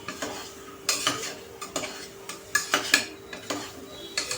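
Liver being stir-fried in masala in a pot, a spoon scraping and clinking against the metal in repeated strokes over a soft sizzle, close and without talk.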